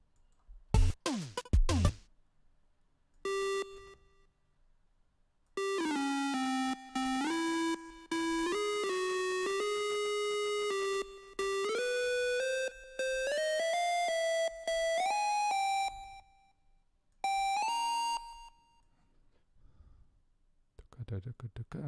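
An 8-bit chiptune synth from a Magical8bitplug2 plug-in plays a stepped, bright square-wave melody in short phrases separated by silences, preceded by a few quick clicks and faint breath noises.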